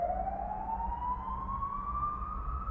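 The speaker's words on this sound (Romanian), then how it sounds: "Când se aude sirena asta" Emergency vehicle siren wailing steadily with a slow rising pitch, loud and continuous without talk, a single sustained tone sweeping upward.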